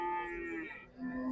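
A cow lows once on a farm, a steady, drawn-out moo that dips briefly and then rises again, close by and alone with no talk over it.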